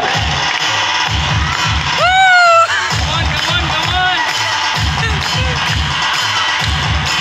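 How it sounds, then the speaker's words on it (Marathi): A studio audience at the Marathi TV game show Home Minister cheers and shouts over a steady thumping drum beat, with one loud high whoop rising above the crowd about a third of the way through. "सर्वांनी टाळ्या वाजवायच्या."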